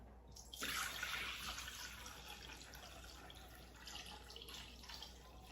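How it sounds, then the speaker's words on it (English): Cooked millet liquid, spiced with ginger and black pepper, poured into a measuring cup, a steady splashing trickle that begins abruptly and runs on at moderate level, with no talking. "I'm going to Pour all the liquid part into this measuring cup."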